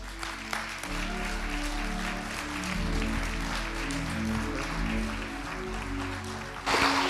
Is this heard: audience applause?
yes